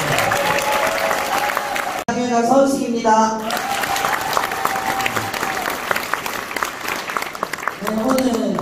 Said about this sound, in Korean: 서은숙 위원장님을 힘찬 박수로 모시겠습니다